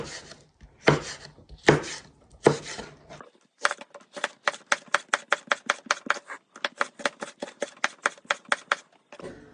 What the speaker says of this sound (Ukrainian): Нам потрібно нарізати цей перчик прямо з насінням ось такими колечками.